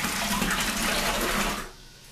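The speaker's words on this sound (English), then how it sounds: "Now this has been boiled, and it is now somewhat sterile, at least more so. And so we pour it in the bucket here." Boiled persimmon wine mix is poured from close range into a plastic-lined bucket as a steady, splashing stream that stops abruptly near the end.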